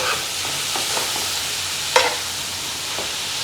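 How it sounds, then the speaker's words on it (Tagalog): Tuyo pasta noodles being stirred with the other ingredients in a hot pan, soft scraping and tossing strokes over a continuous sizzle, with one sharper utensil knock near the middle. "Mix lang natin"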